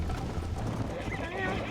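Horse in Red Dead Redemption clopping hooves and giving a short whinny while galloping, close and loud, mixed with game ambience and a speaking voice.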